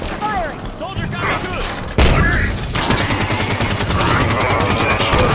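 Sustained gunfire from a Halo 5 battle on Legendary difficulty, rapid bursts and a loud blast at two seconds building into dense continuous shooting with a large impact, with radio-style combat chatter mixed under the fire.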